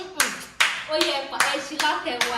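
A few people give a short round of applause, several bursts of hand clapping at close range.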